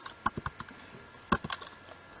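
Keys on a computer keyboard are tapped in a quick irregular run of close, crisp clicks, with a short pause before a final cluster of strokes.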